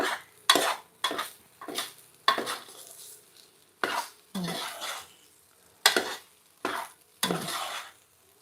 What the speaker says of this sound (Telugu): వేడి అవ్వడానికి కోసం హై ఫ్లేమ్ పెట్టి కలుపుతూ ఉండాలి